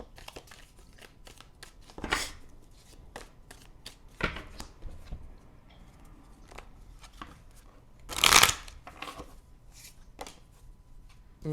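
Round tarot cards are shuffled in a quiet room, giving a few separate brisk riffling bursts, the loudest near the end, with soft handling noises in between and no speech.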